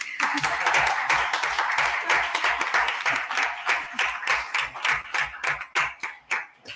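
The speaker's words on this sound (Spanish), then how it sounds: "Un aplauso." Audience applause closing a panel at a book presentation on living with inflammatory bowel disease: dense, steady clapping from a crowd that thins into scattered, separate claps toward the end.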